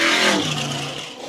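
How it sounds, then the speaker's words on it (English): An old Ford Bronco race car at the Big Sky 200 in Broadview, Montana, roars past close and loud, its engine pitch sweeping downward as it passes, then fading. "I hear another car coming."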